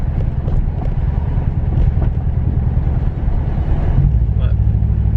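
A Hemi 5.7L truck cruising on the road, its loud exhaust droning in a deep, steady rumble before dropping pitch as it shifts gear near the end, heard from inside the cab.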